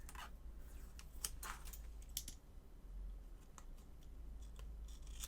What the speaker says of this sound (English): I'm trying to cut in between them rather than through them